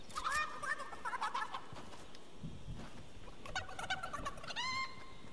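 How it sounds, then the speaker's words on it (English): Chickens clucking and squawking as they are attacked in a video game, harsh bird calls bursting out in short clusters at the start and again near the end over a steady game background. "Killing chicken."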